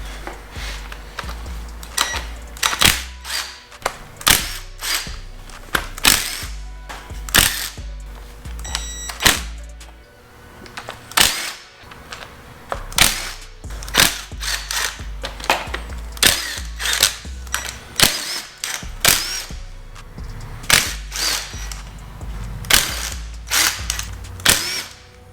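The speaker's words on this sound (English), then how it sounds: "now we're going to go for the intake. Those are all 10mm bolts." A 10mm socket ratchet removes intake bolts from a Jeep Liberty 2.8 CRD diesel engine during teardown, giving loud, close, repeated bursts of ratcheting clicks and metallic clunks, steady throughout and without talk.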